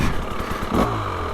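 A 2025 KTM 300XCW Champion Edition two-stroke dirt bike engine running nearby with a steady, buzzing idle and a brief rise in revs, heard alone.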